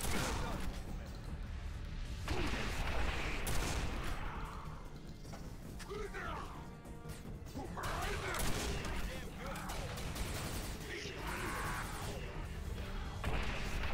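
Rapid hyper blaster gunfire from the Quake 4 video game, dense and continuous bursts of shots with crashes and explosions layered underneath, loud throughout the whole stretch, with talk heard intermittently over the action.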